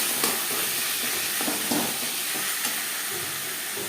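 Red chili powder frying and being stirred in a hot pan for a Bengali fish curry, a steady broadband sizzle with occasional spoon scrapes, close and continuous with no talk.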